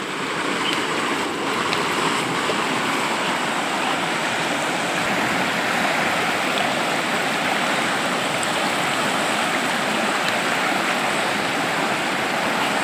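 A flooded river rushes hard through dense forest, a loud, continuous roar of churning water that stays steady and close the whole time, with no voices.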